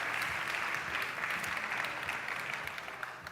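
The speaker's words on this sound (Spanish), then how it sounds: "Fortísimo aplauso para ellos tres." Sustained crowd applause at a university industrial design presentation, a dense wash of many hands clapping steadily and gradually tapering off.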